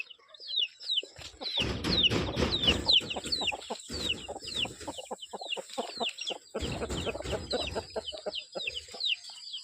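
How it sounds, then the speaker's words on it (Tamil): Hens cluck and chicks peep in a busy, continuous chorus, with high chirps layered over lower clucking and rustling throughout. "அங்கே ஒரு கோழி குஞ்சு இருக்கு"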